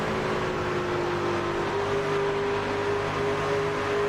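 Race truck engine on a circuit, a steady close engine drone whose pitch eases slightly as the driver lifts off the throttle, with no talk over it.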